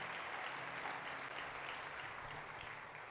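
A church congregation claps continuously, a dense, even wash of applause from many people at moderate distance with no talk over it.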